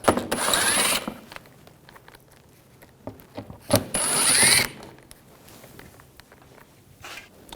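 A hand ratchet fitted with a T25 socket clicks in quick bursts while backing screws out of a panel on a 2011-2018 Volkswagen Jetta TDI wagon. The bursts are close and loud, separated by quieter handling noises, and nobody speaks.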